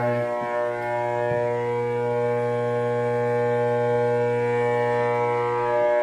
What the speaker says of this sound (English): that's what's making all that noise is those transformers